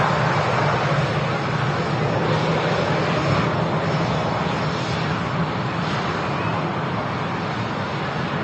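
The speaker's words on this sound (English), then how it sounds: "Turkish Airlines A321neo about to touch down from Istanbul" A Turkish Airlines A321neo with Pratt & Whitney 1100G engines touches down at Manchester Airport, its loud, steady engine roar filling the air without a break.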